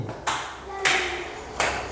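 Sharp hand claps from a classroom of students during an ice-breaking activity, heard as a few separate crisp hits spaced apart over a quiet room.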